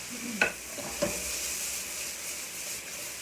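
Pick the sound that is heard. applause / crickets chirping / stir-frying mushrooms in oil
stir-frying mushrooms in oil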